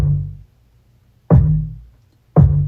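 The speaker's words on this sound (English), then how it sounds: "And then 808s just pretty much sounds like this" Three deep, booming 808 bass hits in an electronic beat, each with a sharp attack and a long, decaying low tail, spaced about a second apart and played alone.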